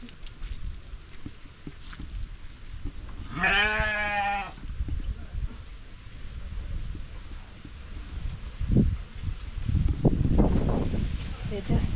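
Cattle resting in an African village give a single drawn-out, wavering call, fairly close and loud, amid outdoor rustle and wind, with faint voices murmuring later.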